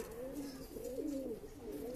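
A pair of Andhra breeding pigeons cooing close by, their soft throaty calls repeating in a rising and falling rhythm over a faint background hiss.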